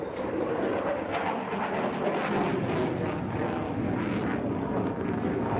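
A Dassault Rafale fighter jet manoeuvring before landing during a demonstration at the 2015 Paris Air Show, giving a steady, broad, unbroken jet roar throughout.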